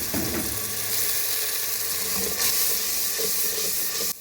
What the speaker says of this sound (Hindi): मैं थोड़ा सा पानी भी डाल दूँगी ताकि ये थोड़ा मिसाला अच्छी तरह भुन जाए।